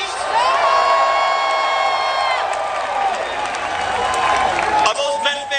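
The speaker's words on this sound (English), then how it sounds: "Are those Mets fans booing?" A large, loud crowd at a South Bronx political rally with Bernie Sanders, Spike Lee and Rosario Dawson, Mets fans booing and shouting in a sustained roar that swells and dips without a break.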